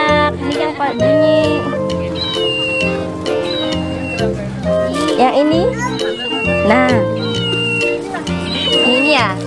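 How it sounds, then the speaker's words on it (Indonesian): A toy cat bought for a child gives repeated electronic meows, loud and close, mixed with a voice and adults talking around it. "beli kucing mainan. Dia bisa bunyi loh."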